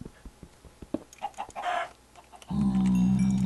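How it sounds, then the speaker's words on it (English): Chickens cluck in the Soul Cauldron video game, with scattered soft clucks and bird calls over the first seconds before a loud, steady low drone swells in and masks them. "There's the chickens."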